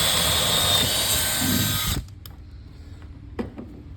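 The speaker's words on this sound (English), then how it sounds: "then drill your hole" A power drill whirs loudly and steadily for about two seconds while drilling a hole for a nightstand knob, then stops abruptly, followed by a few faint clicks and taps.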